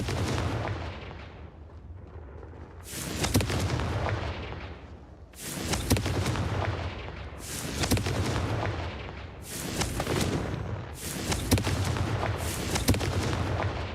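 Confringo fire spells explode in the Hogwarts Legacy video game, with about five loud, heavy booming blasts in quick succession, each ending in a rumbling tail, and no talking.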